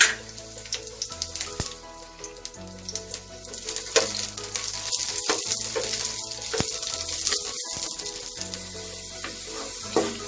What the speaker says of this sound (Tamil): இப்போ இந்த பூ நல்லா வறுபட்டுருச்சு.